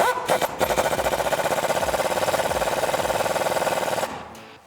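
A ratchet wrench tightens a nut on the strut of a 2014-2018 Chevrolet Silverado 1500 during a Rough Country 2-inch front leveling and N3 strut install, giving a close, rapid, steady run of ratcheting clicks for about four seconds before stopping.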